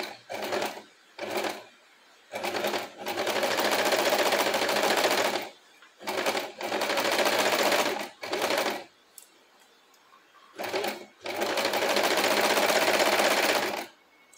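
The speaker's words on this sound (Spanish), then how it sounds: "Van acomodando esta tela de arriba para que en la parte que voy a coser no tenga arrugas" A sewing machine stitches a fabric seam in several loud, steady bursts of rapid mechanical whirring, separated by short pauses while the cloth is adjusted.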